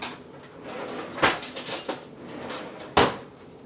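A butter knife scraping down a metal pastry cutter while making a crust. Two sharp metallic clacks stand out, with lighter scraping and clinking between them, close and otherwise quiet.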